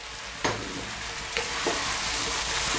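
Cooked pasta being stirred into a creamy Parmesan sauce in a hot pan: a soft sizzle runs throughout, broken by a few close scraping strokes of the spoon, with no one speaking.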